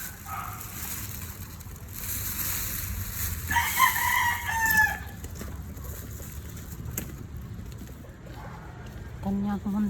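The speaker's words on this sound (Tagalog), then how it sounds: "Kanyang munting manukan guys. So, yung mga manok maghihintay na pagkain" Chickens cluck nearby while a rooster crows once in the middle, with softer bird calls and faint voices around them outdoors.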